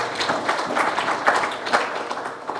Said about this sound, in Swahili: Makofi kwa kampuni ya Jairut tafadhali